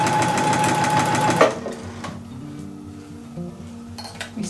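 A sewing machine stitching along a dress neckline runs with a steady, loud mechanical whir for about a second and a half, then stops, leaving softer clinks and handling noises close by.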